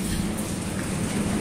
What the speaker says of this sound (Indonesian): Tapi sekarang baru turun hujan ya.